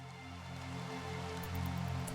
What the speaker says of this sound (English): It's in the rain at night.